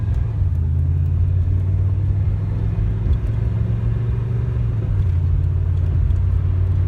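A steady, loud engine rumble fills the clip as a 1984 Chevrolet Monte Carlo SS drives along at a constant pace, with a low droning hum.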